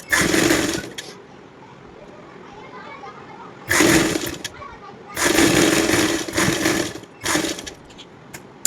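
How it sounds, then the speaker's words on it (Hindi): A sewing machine stitches a toddler girl's umbrella-cut top in several loud whirring bursts of varying length, with someone talking in the quieter gaps between runs. "हम ये पूरे में एक और बार सिलाई लगा देती हूँ"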